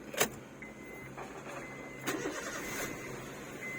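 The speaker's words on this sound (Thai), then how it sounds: "สตาร์ติดไปที่เรียบร้อยนะครับ" A Honda City engine starting after its key immobilizer is programmed: a faint, brief click and crank, then a quiet steady idle running beneath light background noise.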